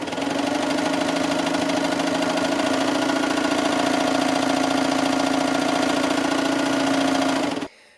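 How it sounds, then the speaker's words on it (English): An overlocker runs a rolled hem along the edge of chiffon for a tiered circle skirt, a steady, close mechanical whir that holds evenly for about seven seconds and then cuts off abruptly. "use my overlocker to do a rolled hem all down the front and all the way along the bottom"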